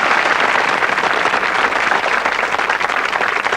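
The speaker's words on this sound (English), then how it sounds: "Let's hear a big round of applause for Richard." Dense, steady audience applause fills the whole stretch, loud and close, after a guest's appearance on a 1991 television investigation of psychic mediums.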